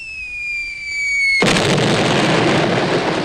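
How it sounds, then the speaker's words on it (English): A cartoon-style bomb explosion from an Atom Ant children's record, in which a descending whistle gives way to a sudden loud blast whose roar and crackle hold steady to the end. "Look, now the Air Force is trying bombs."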